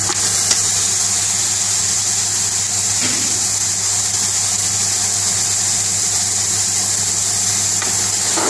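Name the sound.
meat frying in oil in a pot for curry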